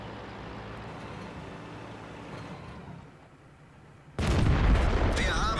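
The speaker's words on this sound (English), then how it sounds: "And we get a beautiful ammo rack." A tank's ammo rack detonating in World of Tanks: steady engine and battle rumble gives way to a sudden loud, close explosion burst that rolls on with crackling debris.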